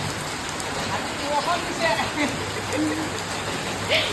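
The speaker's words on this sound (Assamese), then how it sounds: "পুৰা বৰষুণ চাওকচোন" Steady rain patters down across the whole stretch, a broad wet hiss with scattered drops and faint background noise.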